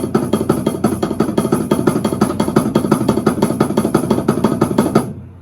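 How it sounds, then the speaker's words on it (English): Continuous double-stroke rolls played with drumsticks, a fast even stream of paired strokes holding steady at close range for about five seconds before stopping abruptly. "So now I can go continuous double stroke rolls."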